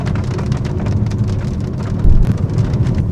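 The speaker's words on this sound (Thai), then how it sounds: "พอดีฝนมาต้อนรับ" Steady heavy rain pours down on a roadside in Laos, a dense continuous hiss with drops pattering on surfaces and a low rumble of thunder rolling underneath.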